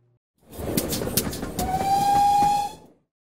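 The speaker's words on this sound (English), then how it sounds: "So there we go, a digital sound fitted motor upgraded model on a budget." A Hornby Class A3 model locomotive with a TTS digital sound decoder gives off synthetic steam chuffing, then a sustained whistle blast near the end before cutting out, with no speech.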